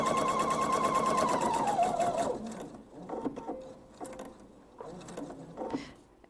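A sewing machine stitches a quarter inch seam on fabric in one continuous whirring run up close that slows and stops, followed by faint clicks and handling noises.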